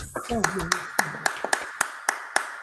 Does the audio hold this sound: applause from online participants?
yes